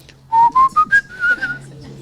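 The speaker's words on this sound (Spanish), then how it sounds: "Si no canta, chifla." Person whistling a short rising run of about six bright notes, then a slightly wavering held note, close and clear with no talk.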